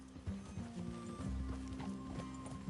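Horses clip-clop on the ground in the video game Red Dead Redemption 2, a steady hoof rhythm at moderate distance under a background game ambience, with an occasional faint whinny.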